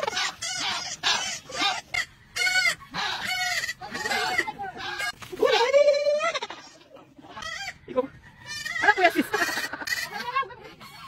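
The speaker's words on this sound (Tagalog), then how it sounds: "paparinig ko sa inyo kung gaano kaingay yung mga kambing" Goats bleat loudly and almost constantly on a farm, with many overlapping, wavering cries from several animals, including a young kid.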